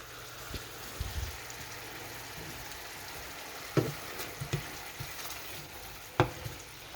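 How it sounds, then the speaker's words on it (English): Onions frying in a pan, cooking down before okra goes in: a steady soft sizzle runs throughout, with a few sharper clacks of a utensil stirring against the pan. "Onions are cooking down."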